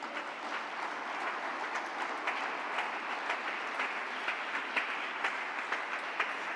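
Sustained applause from a church congregation during a Sunday service, steady dense clapping with scattered sharper claps standing out, filling the room evenly for several seconds.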